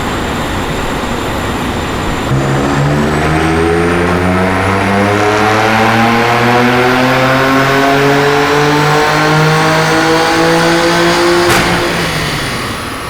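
A BMW M2 Competition with its S55 engine and a Stage 2 tune revs on a dyno, climbing in one long, loud, steady pull from low to high rpm before cutting off near the end.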